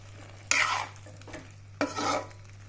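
Tomatoes drop into a pan of frying garlic-ginger paste, giving two loud bursts of sizzling as they are stirred in. A steady low hum runs underneath, and a faint clink of a utensil is heard between the bursts.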